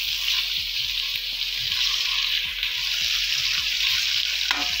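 Drumstick mutton curry is fried and stirred in a pot while it browns, giving a steady, dense sizzle throughout with light scraping underneath, close and continuous, with no voices.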